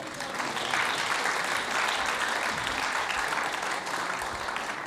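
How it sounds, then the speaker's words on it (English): A temple congregation at a Srila Prabhupada Day celebration applauds, steady dense clapping filling the room evenly for about five seconds at moderate loudness. "Give yourselves a round of applause."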